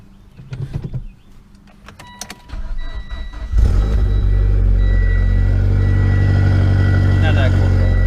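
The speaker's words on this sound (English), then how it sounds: "so let's get the little cold start" A 2014 Mitsubishi Lancer Evolution X cold-starts with a few clicks and a whirring crank, then its engine catches and settles into a loud, steady, close idle.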